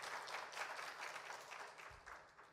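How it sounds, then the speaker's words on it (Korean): A church youth congregation at a Sunday school dedication service gives a short round of soft, faint clapping, with a few distinct bursts of hand claps. "우리 박수 한번 쳐주세요"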